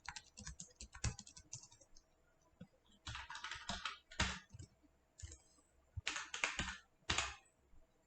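Computer keyboard typing in separate quick bursts with quiet gaps between, close but soft, over a faint steady background hum; no talking.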